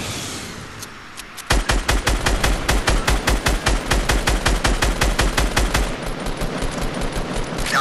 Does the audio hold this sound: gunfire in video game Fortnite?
yes